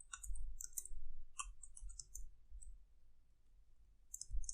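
Typing on a computer keyboard to enter a last name into a form, heard as scattered crisp key clicks in short bursts with pauses, close and fairly quiet over a low background hum.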